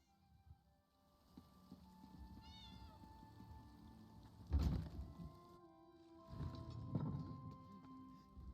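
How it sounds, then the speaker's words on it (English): Cats meowing in the Elder Scrolls Online video game, a brief high meow early on followed by thumping footsteps and clattering game sounds, fairly quiet overall. "Damnable cats!"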